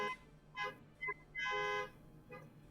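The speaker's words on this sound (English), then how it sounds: "My neighbor set off their car alarm." A neighbor's car alarm sounding at a distance, fairly faint, with several separate electronic tonal bursts of uneven length.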